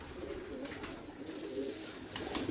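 Pigeons kept by a breeder coo steadily in a low, murmuring rhythm, several birds overlapping at moderate distance, with faint rustling and chirps on top and no voices.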